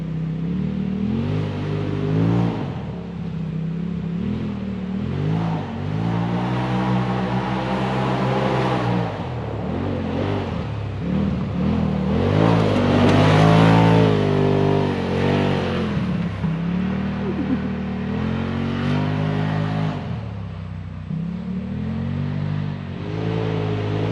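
A 2021 Polaris RZR Pro side-by-side pulls away from a campground at dusk, its engine revving up through rising and falling pitch, loud and close, with no talking over it.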